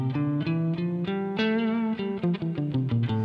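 Phrygian mode played note by note on a keyboard instrument, moving in a brisk stepwise run with overlapping notes, close and unaccompanied.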